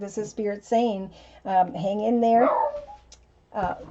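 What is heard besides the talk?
dog barking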